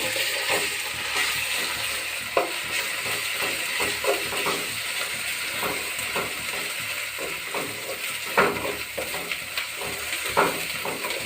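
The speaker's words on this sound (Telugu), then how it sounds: "ఆనియన్స్ మంచిగా వేగినాయండి" Onions frying with ginger garlic paste and turmeric in a pan, a continuous soft sizzle and hiss with scattered stirring scrapes and taps, close and steady without talk.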